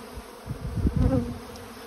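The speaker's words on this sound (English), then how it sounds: "These bees are in robbing season." Honey bees buzz around a hive during late-summer robbing season, a steady droning hum with nearby wingbeats swelling louder midway before easing off.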